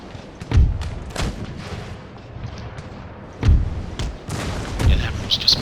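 Naval cannons booming in the game Empire Total War, several deep heavy thuds spaced a second or two apart, mid-distance, with a voice talking between and over them.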